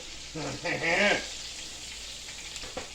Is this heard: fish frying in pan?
yes